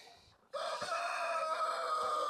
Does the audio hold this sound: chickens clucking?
yes